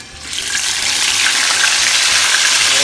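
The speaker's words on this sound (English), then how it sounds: "We are going to start frying these." Marinated pieces frying in a pan for a Puerto Rican dish, with a loud, steady sizzle that swells in the first half second and holds, crackling dense and close, with no talk over it.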